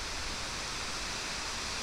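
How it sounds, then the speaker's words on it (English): Waterfall roaring steadily up close, a dense unbroken wash of rushing water at constant loudness with no voices. "Lo and behold, another waterfall."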